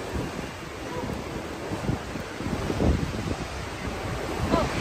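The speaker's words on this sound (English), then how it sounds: "it is windy" Strong wind buffets the microphone at the cruise ship dock on Perfect Day at CocoCay in 2024, roaring steadily throughout with rough surf washing nearby and gusts swelling louder toward the end.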